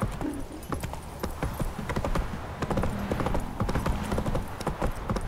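Roach the horse trots in The Witcher 3, a steady quick clip-clop of hooves on ground close by, with a brief whinny-like sound near the start and dense game ambience.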